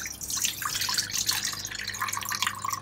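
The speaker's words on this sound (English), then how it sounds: "take 1 cup of water and pour it in your bowl" Water pours steadily into a container, a continuous bright splashing trickle nearby, with no talking.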